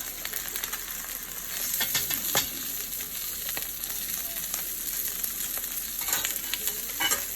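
Spiced barramundi fish searing in a pan, giving a steady, moderately loud sizzle with scattered crackles and pops throughout, and no voices.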